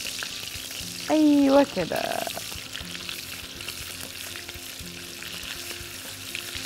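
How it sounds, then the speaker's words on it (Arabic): Steak sears in a pan with a steady, moderate sizzle, briefly interrupted by a short louder tonal sound and a quick spoken remark early on. "شايفين، يعني هو ابتدى يتشوح معايا"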